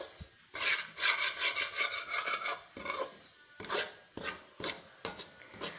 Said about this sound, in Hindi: सूजी को अच्छी तरीके से भूने, इतनी कि ये लाइट ब्राउन हो जाए।